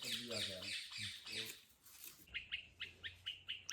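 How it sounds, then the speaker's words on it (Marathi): Birds chirp and squawk near a hillside farmhouse between the Panshet and Varasgaon dams, with a person talking over the first half and then a run of sharp, repeated chirps close by. "काय मस्त पक्ष्यांचा आवाज येतो"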